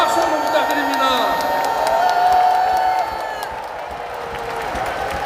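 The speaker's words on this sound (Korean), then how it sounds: "박수 한번 부탁드립니다" Political convention audience applauding and cheering for fellow party candidates after an acceptance speech, a broad wash of clapping with scattered shouts, loud at first then easing slightly, with a faint voice underneath.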